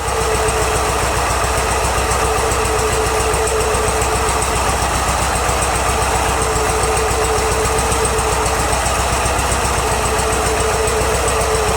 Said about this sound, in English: Been idling like this for about 5 minutes.